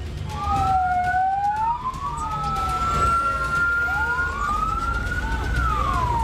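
A fire truck siren wails at a cardboard factory fire in Tangerang, Indonesia, its tone sweeping up and down in long repeated cycles over a low traffic rumble, moderately distant.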